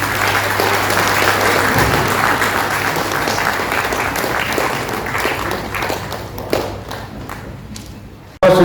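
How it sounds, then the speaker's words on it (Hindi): Loud, dense audience applause at a public gathering, continuous and fading somewhat toward the end before a sudden loud burst closes it. "पूरा तालियों की गूंज होनी चाहिए।"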